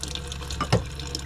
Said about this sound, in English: we have water coming out of the faucet